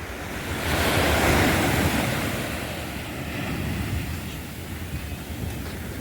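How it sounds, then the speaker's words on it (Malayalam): Ocean surf breaking on a beach in Malappuram, a broad continuous wash of waves swelling loud near the start and then rolling on steadily, with wind buffeting the microphone and no talk. "കടലിൽ കുളി എങ്ങനെയാന്ന് കാണിച്ചുതരാം"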